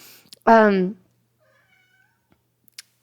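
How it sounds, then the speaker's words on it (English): A pet cat gives one loud, clear meow close by, followed by near silence with only a couple of faint ticks. "sorry if that's my cat in the background."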